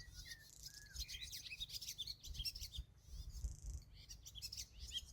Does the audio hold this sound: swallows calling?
yes